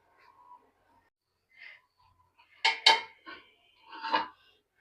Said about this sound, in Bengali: ঢাকনাটা দিই।